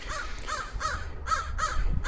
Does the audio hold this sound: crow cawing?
yes